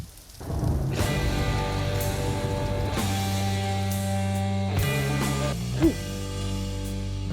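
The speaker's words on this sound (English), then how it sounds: "I like the rain." Rain falls steadily under a loud droning musical intro of a song with struck church-bell tones, with a rumble near the start.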